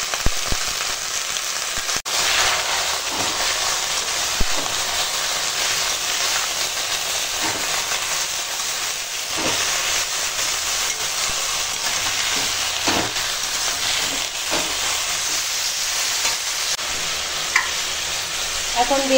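Pumpkin greens frying with turmeric and chili powder in a pan, a loud continuous sizzle and crackle lasting throughout, punctuated by occasional stirring scrapes and clinks, heard up close.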